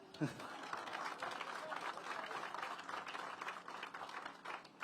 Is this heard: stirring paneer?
no